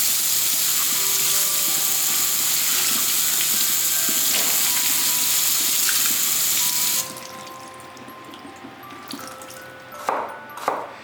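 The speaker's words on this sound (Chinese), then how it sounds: "酸菜先把它洗干净" Pickled mustard greens rinsed under a running kitchen tap, a steady loud rush of water for about seven seconds that then cuts off, leaving quieter handling and splashes near the sink.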